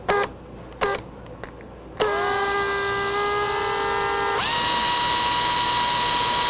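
A power drill bores a deep hole in the neck of a 1964 ES 335 replica guitar for the truss rod, with short bursts, then a sustained whine that rises in pitch as it digs in.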